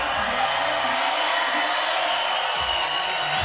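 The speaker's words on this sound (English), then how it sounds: "This crowd is getting loud." A crowd at a FIBA 3x3 Europe Cup basketball game makes a dense, steady roar of cheering and shouts throughout, with voices talking within the noise.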